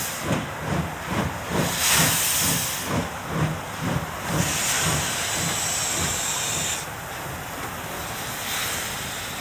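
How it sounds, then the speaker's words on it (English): A restored steam locomotive's cylinder indicator releases rhythmic bursts of hissing steam with each piston power stroke, regular chuffs that give way to a continuous loud hiss, with no talk. "Steam escapes from the indicator with every power stroke from the front side of the piston."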